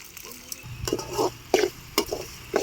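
Mutton paya stirred in a cooking pot, with repeated scraping and sloshing strokes in an uneven rhythm over a low background sizzle.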